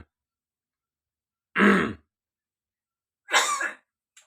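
A talking bird imitates a human cough, producing two separate throaty cough-like bursts about two seconds apart, close and fairly loud against otherwise quiet surroundings.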